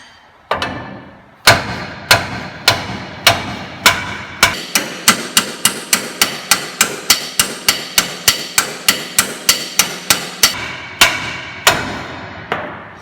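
Heavy hammer blows strike the seized front end of a Ford F100 truck, a few spaced hits building into a fast steady series of sharp metallic bangs, then slowing again at the end.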